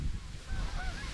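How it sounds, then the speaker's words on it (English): Wild geese honk in a few short calls from a distance during a late-season goose hunt in Wyoming, faint over a low rumble of wind. "Tons of geese, and they're giving us a little look"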